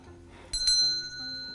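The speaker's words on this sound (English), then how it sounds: "We have even a school bell." A small handheld school bell in a classroom's stationery corner gives two quick metallic dings that ring on brightly and decay over a faint background.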